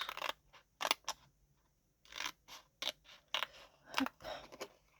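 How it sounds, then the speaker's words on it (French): Scissors snipping through paper in a series of close, crisp cuts, irregular bursts with short pauses between them, no talking. "Je vais le découper."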